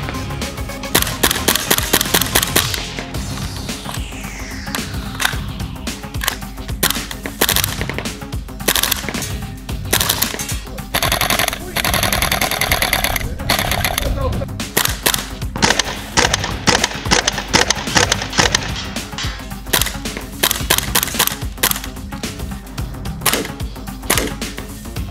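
STS K1A gas blowback airsoft rifle fires in rapid full-auto bursts and short strings, sharp snapping cracks with clacking bolt action, loud and close, separated by brief pauses.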